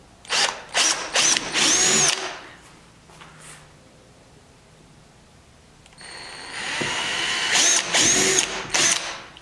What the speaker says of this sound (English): we've got our marks here in the paint, and we're just gonna drill a... These are just pilot holes?